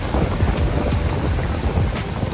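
Heavy rain pours steadily in Guadalajara, Mexico, a loud dense hiss of drops on surfaces, with a low rumble of thunder underneath throughout.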